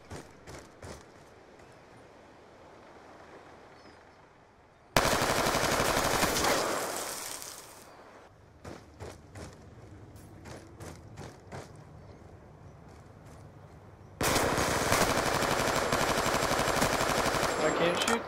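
Scorpion gun in Black Ops 2 firing in two long, loud bursts of rapid automatic fire, separated by quieter stretches of scattered game shots and clatter.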